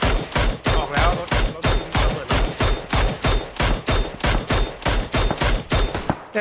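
Rapid, evenly spaced bursts of automatic gunfire from an enemy in a PUBG Mobile-style shooter match, loud and close, about two shots per second for six seconds with no talk over it.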